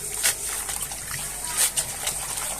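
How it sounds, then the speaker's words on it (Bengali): Coriander leaves being washed by hand in water, soft trickling with two brief splashing bursts, faint and close, with no one talking. "পানিতে দিয়ে দিলাম ধনিয়া পাতাটা ধোয়ার জন্য"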